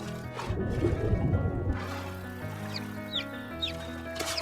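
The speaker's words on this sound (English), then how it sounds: "Oh, some more chicks. You can definitely hear them clucking too." Chickens in a Skyrim village mod cluck in short, scattered bursts over a steady, busy game ambience, moderately close and not very loud.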